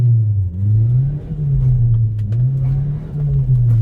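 A Subaru Sambar mini truck driving off-road in two-wheel drive, its engine a steady low drone with slight rises and dips in pitch as it pulls along, close and continuous with no talk.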